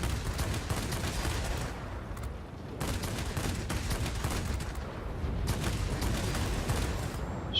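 Aircraft cannons on a Tachikawa Ki-94-II fire in the video game World of Warplanes, in dense, loud, rapid bursts that are nearly continuous and broken by brief pauses.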